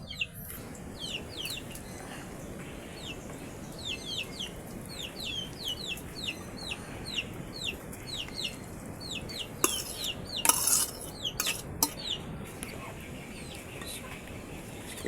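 Squid balls and kikiam being stirred in a pan, producing soft, irregular scraping and clatter, while repeated bird chirps sound clearly over it throughout.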